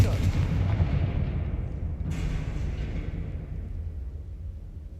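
A fiery blast from the Confringo spell in Hogwarts Legacy, a heavy booming explosion that rumbles loudly and decays, with a second burst hitting midway through the rolling low-end roar.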